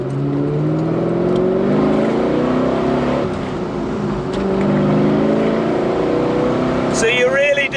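A Walkinshaw Performance VXR8 engine revs hard and accelerates up close, a loud, steady roar with rising harmonic sweeps, and a voice speaks over it.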